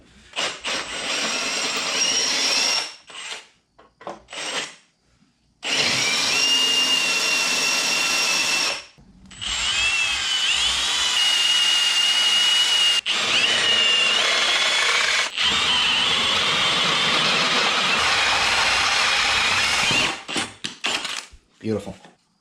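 A power drill bores holes in metal during an overhaul of a Toro Wheel Horse C-145 lawn tractor, whining steadily in long bursts separated by short pauses, up close and loud, with brief speech in the gaps.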